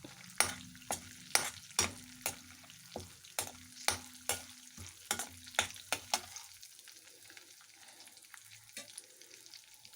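Dried red chillies fry in hot oil for a banana flower curry, with a rapid series of sharp spoon clacks and scrapes against the pan over a low sizzle during the first six seconds, then a quiet, fading hiss; close, no speech.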